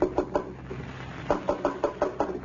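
Knocking at a door as a classic radio drama sound effect: two groups of crisp knocks, a quick double rap then a steady run of five or six, close and clear over faint hiss.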